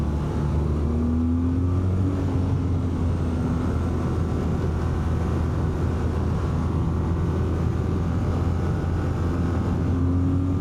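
A BMW R12 nineT boxer engine hums steadily while riding, a continuous even drone with slowly shifting pitch, with wind noise and no sharp rises.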